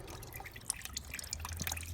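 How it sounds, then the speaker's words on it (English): Green coolant-tinged water drains from a waterlogged, long-neglected Yanmar boat engine, irregular close drips and trickles splashing over a low steady hum. "Step one is draining the engine oil, which right now, as you see, is coming out as green water"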